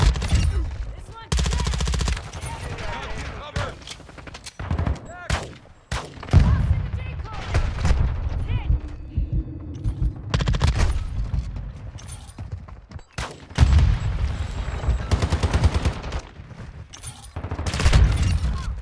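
Dense, heavy gunfire from Call of Duty Modern Warfare 2 (2022) on PC, with shotguns in use, keeps booming loudly in rapid overlapping bursts almost without pause, and only brief gaps break the barrage.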